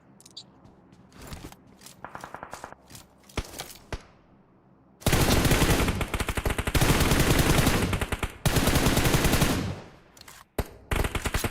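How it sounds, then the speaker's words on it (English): Gunfire in a battle royale video game: scattered single shots and short bursts at first, then sustained loud rapid automatic fire in long volleys, with brief pauses and more shots near the end, no voice. "So we are shooting towards a couple of players over here."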